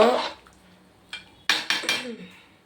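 A spoon clinks and scrapes against a pot while spiced vegetables for sambar are stirred, with several sharp metallic knocks in quick succession and a short voice at the start.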